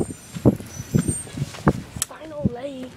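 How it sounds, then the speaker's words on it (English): A bus's brakes give a short, high, wavering squeal near the end, after a series of heavy knocks and thumps from the vehicle, heard close by amid street noise. "Buses make that screeching noise"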